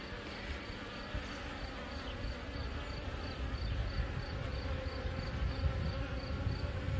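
Steady close buzzing of honey bees at a hive being inspected, a dense continuous hum that swells slightly louder in the second half, with no voices.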